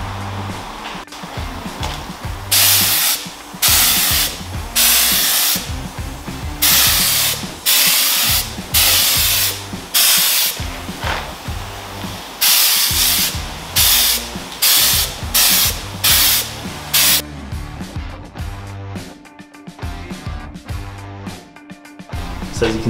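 Bursts of a spray gun applying paint to car wheels, each pass a loud broadband hiss lasting a second or two with short pauses between, repeated steadily and close by, with no talk.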